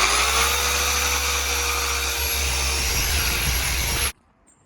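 Rotary polisher working over the paintwork of a Mercedes Vito W447 van to remove scratches, a steady loud whirring hum that runs alone and then cuts off abruptly.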